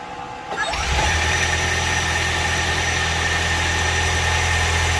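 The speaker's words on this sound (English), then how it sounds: "Maybe rev it up just a few times to see if the alternator will pick up the charge." A Ford Maverick hybrid truck's engine catches after a jump-start and settles into a loud, steady idle with a low rumble and vibration. A quieter stretch comes just before the engine takes over, and no one talks.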